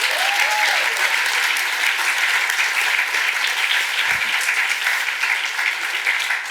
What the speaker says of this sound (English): Round of applause for Valerie, who you'll see later.